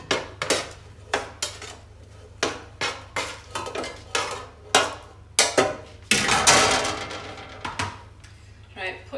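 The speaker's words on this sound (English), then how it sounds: "Just tip all of that into your pan." Chopped root vegetables tipped into a cooking pan in a home kitchen, a series of sharp clattering knocks and scrapes against the pan, close and fairly loud, with a longer rattling spill near the end.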